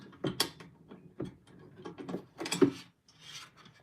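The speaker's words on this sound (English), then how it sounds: "just get the screw threaded a couple of times" A screw is threaded by hand into a VESA mount for a 49-inch ultrawide monitor, making close, intermittent metallic scraping and ratcheting clicks in short bursts separated by brief pauses.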